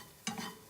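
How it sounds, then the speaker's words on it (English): Onions and peppers sauté in a pan, a short burst of sizzling and stirring that flares up suddenly and then settles into a steady hiss. "my onions and my peppers are cooking"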